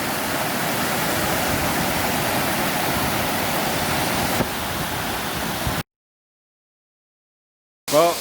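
Ramona Falls on Mount Hood roars as a loud, steady broadband rush of falling water for about six seconds, then cuts to brief silence before a short burst of sound returns.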